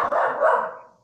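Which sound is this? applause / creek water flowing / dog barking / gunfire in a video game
dog barking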